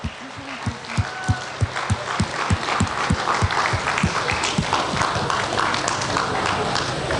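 Audience applause in a hall for the Hack of the Track 2018 hackathon winners, a dense steady clapping wash with rhythmic thumping beats underneath, loud and sustained throughout.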